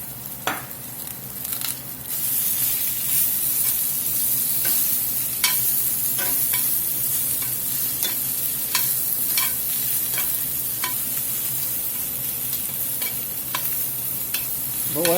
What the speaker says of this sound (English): We're just going to wilt this spinach here a little bit.